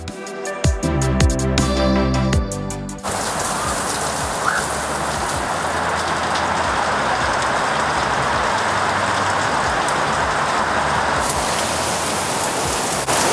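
Steady rain falls hard and close, a dense continuous hiss of drops on surfaces, preceded by a few seconds of choppy, clicking interference at the start.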